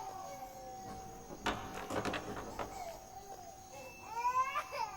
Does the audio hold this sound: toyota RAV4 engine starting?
no